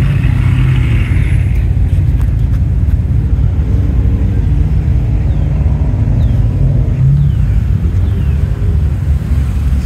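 Classic cars at the Radwood 2024 show at The Amelia idle and roll out slowly in a traffic jam, a steady low engine rumble close by with wind buffeting the microphone throughout.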